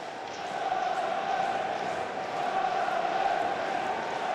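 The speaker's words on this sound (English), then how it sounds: "Crowd doing their bit to get the team going." A football stadium crowd at a Sunderland match against Rotherham United, heard as a steady, distant roar of many voices that holds at an even level throughout, with a faint swell midway.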